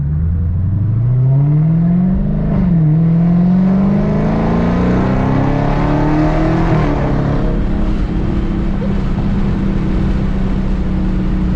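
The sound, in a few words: car accelerating hard at full throttle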